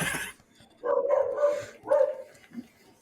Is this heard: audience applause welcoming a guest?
no